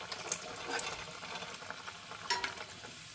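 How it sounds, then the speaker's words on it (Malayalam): Chicken rolls deep-fry in a pan of hot oil, a close, steady sizzle with crackling bursts and brief stirring clatters, some louder spatters near the start and again later, with no talking. "അതുപോലെ എല്ലാം പൊരിച്ചെടുക്കുക"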